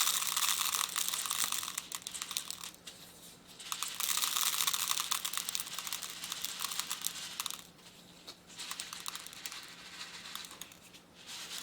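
Rhinestones are shaken across the SS10-hole tray of a Synergy 17 rhinestone sorter, giving a faint, close, dense gritty rattle in several bursts separated by short pauses.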